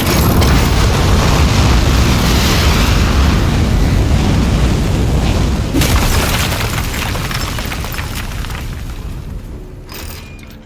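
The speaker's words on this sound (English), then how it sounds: "3, 2, 1. We have liftoff." Rocket liftoff in Aperture Desk Job, a loud sustained roaring rumble that stays dense and powerful for several seconds before slowly thinning and fading away.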